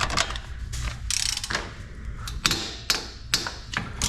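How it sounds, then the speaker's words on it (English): A breaker bar fitted with a 10mm hex socket works loose a front brake caliper bolt on a Porsche Boxster S (986), giving close metallic clicks, knocks and ratcheting taps in an irregular series. "Have the 10mm hex on the breaker bar here."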